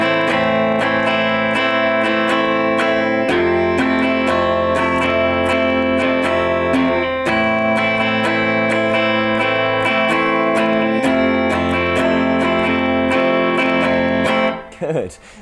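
Guitar strumming the alternating chords of a song, a steady rhythmic strum running continuously for about fifteen seconds at moderate loudness, then stopping abruptly.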